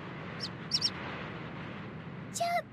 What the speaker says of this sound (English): Chirp, chirp.